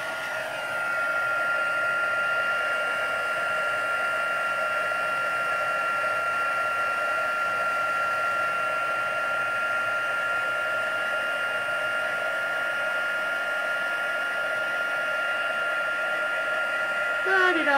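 Heat gun blowing steadily to melt craft material, a constant loud whoosh and whine running unbroken for the whole stretch, with no talk over it.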